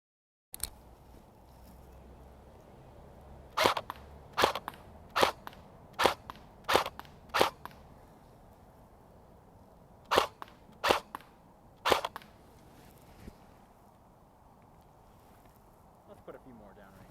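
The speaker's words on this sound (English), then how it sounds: "So let's get to the shooting." A CYMA 048 AKM airsoft rifle upgraded by SWIT fires about a dozen sharp, clean single shots in uneven clusters, each a short crisp snap standing out against quiet room noise.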